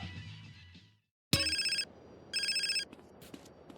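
A phone rings in the video game GTA San Andreas: two electronic bursts of rapid warbling rings, each about half a second, after a sharp click, clear and close over faint background noise.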